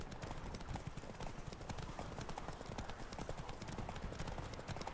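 Roach the horse gallops through The Witcher 3, hooves drumming in a quick, steady rhythm over a continuous bed of game ambience.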